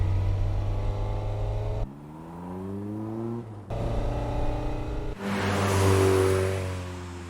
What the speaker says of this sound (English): The 8-6 sounds different than last time.